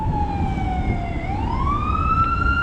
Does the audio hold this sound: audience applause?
no